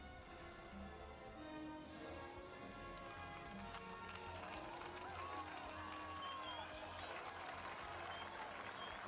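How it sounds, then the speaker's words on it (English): Crowd applause from the video game Stellaris, a faint, steady patter of many clapping hands with scattered cheers and whistles rising in the second half, heard at low level. "You hear that? Everybody's applauding you."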